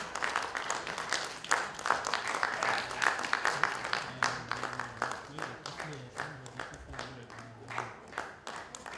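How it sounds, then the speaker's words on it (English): Audience at a film circle legacy event in Ibadan applauding as an honoree is ushered onto the stage, steady crowd clapping with distinct hand claps throughout, moderately loud, with a voice speaking partway through. "Please usher Baba up on stage with a round of applause."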